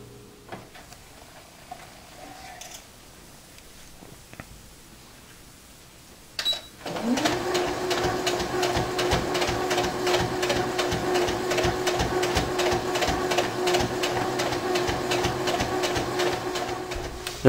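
Sewing machine stitching a seam on a wool blanket to fit a zipper, a quiet lead-in with a few clicks and then a loud, steady rapid needle chatter running continuously near the microphone.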